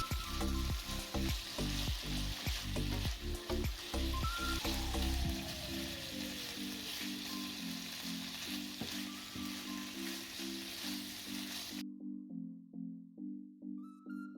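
Sliced chicken fillets sizzle and spit steadily in a hot pan while being cooked for homemade chicken doner, with louder crackles and stirring clatter early on, then an even frying hiss that cuts off near the end.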